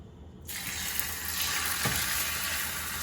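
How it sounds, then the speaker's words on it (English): Beaten egg poured in a thin layer into a hot oiled rectangular tamagoyaki pan bursts into a loud sizzle that starts abruptly and keeps crackling steadily, with no talking over it. "pour a thin layer of egg on the bottom of the pan and then start moving quickly"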